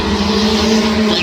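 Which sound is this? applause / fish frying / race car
race car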